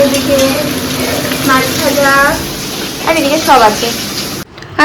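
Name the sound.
mutton being cooked in a pan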